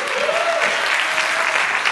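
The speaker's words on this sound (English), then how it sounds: "A round of applause for Julia, please." Audience applause fills a room at a magic show as a volunteer is welcomed on stage, steady dense clapping throughout, close and loud with no talk over it.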